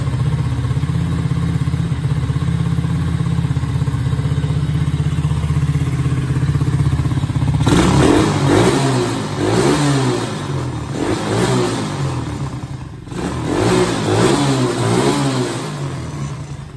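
A 2022 RFZ Sportrax 125cc ATV engine idles steadily at close range, then revs up repeatedly in loud surges with clattering mechanical noise, no voices present.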